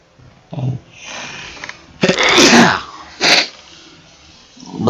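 A sniff, then a loud burst like a sneeze followed by a second short blast, close to the mic, with some breathy noises around.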